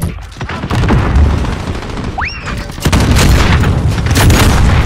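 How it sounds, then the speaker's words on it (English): A rocket launcher explosion in the Modern Warfare video game lands as a heavy, loud boom among gunfire and crashing debris, with a whooshing sweep midway and a second blast rumbling into the end. "You goddamn rocket launcher."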